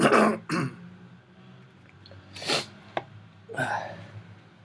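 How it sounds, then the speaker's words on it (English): A person with a strong cold clears their throat several times in short, raspy bursts separated by pauses, close to the microphone. "trying to clear my throat, and I can't."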